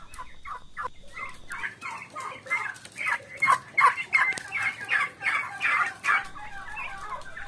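A flock of turkeys gobbles in repeated rapid bursts, the calls overlapping and growing louder toward the middle, with some clucking nearby.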